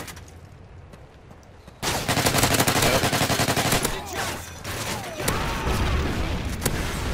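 Rapid video game gunfire erupts after a quieter start, with dense automatic bursts and booming explosions continuing loudly throughout, in Call of Duty: Modern Warfare 3 Survival mode.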